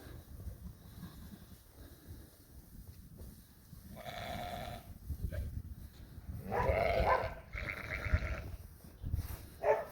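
Sheep and lambs on a farm bleat in several overlapping calls, some close and loud, others fainter, amid low rustling and movement.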